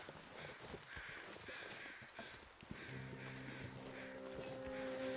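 Crows caw in the wild in a survival game, repeated harsh calls spaced through a rushing outdoor ambience, with a low droning tone entering midway and swelling toward the end.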